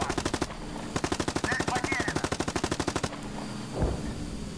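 Tank gunfire from the PC game Gunner, HEAT, PC! comes as long, rapid bursts of automatic fire, evenly spaced and loud. It stops abruptly and leaves a lower rumble with one duller thud at the end.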